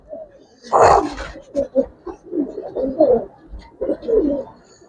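Giribaz pigeons cooing close by, a series of low throaty coos and burbles in uneven bursts over a few seconds, with a louder flutter-like rustle near the start.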